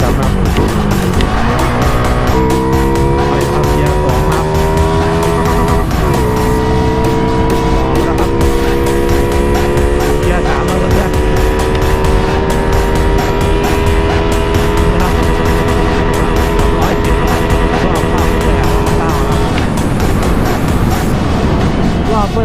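Honda Wave 110i motorcycle engine revving hard in third gear, a loud, close, sustained whine that climbs in pitch, dips briefly, then holds high near the rev limit for many seconds.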